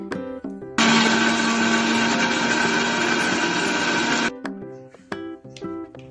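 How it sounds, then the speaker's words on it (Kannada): A mixer grinder blends spinach and green chillies in one loud, steady whir lasting a few seconds, then cuts off, with short clinks and knocks before and after. "ಪಾಲಕ್ಕು ಮತ್ತು ಮೆಣಸಿನ್ಕಾಯಿನ ಎರಡು ಸೇರಿಸಿ ನಾನು ಮಿಕ್ಸಿ ಮಾಡ್ಕೋತಾ ಇದ್ದೀನಿ."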